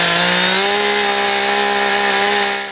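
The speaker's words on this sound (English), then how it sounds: "I'm going to run the chainsaw down" A chainsaw roars loudly and continuously close by, cutting a log to fit for an addition at a remote Maine camp, its engine pitch rising slightly as it bites into the wood, then trailing off at the end.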